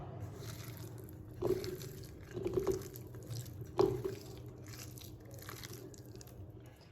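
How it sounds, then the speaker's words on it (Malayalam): Parippu vada batter of ground lentils and chopped onion squeezed and mixed by hand, with soft wet squelches and three or four louder crunchy squishes over a faint background hum. "ഇനി നന്നായിട്ട് നമുക്ക് കൈ കൊണ്ട് കുഴച്ചെടുക്കാം"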